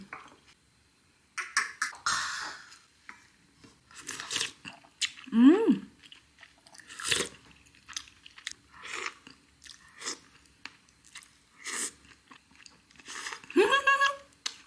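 Close crunchy biting and chewing of fried tofu pouches in soup, with irregular bursts of mouth sounds between pauses, plus a few brief vocal murmurs.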